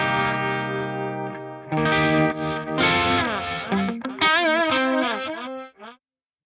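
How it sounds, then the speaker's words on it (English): Electric guitar run through an Axe-Fx Crystals block, pitch-shifted with reverse reverb and spliced crossfades, giving shimmering, warbling sustained chords that swell and overlap continuously without any talking. "we have a pitch shifter and a reverse reverb and this kind of like spliced crossfade thing happening"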